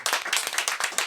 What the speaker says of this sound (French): Alors on va applaudir le retour de Madame Rachida Kati.